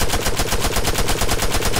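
An automatic rifle in the military shooter Arma 3 fires a rapid, loud, close stream of evenly spaced shots in a continuous sustained burst.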